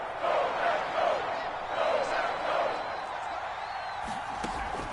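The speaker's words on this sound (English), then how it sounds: "the crowd getting into it as we come up on a big 3rd down" A stadium crowd in an American football video game on PS4 roars and swells in waves during a big third-down play, with commentators talking over it throughout.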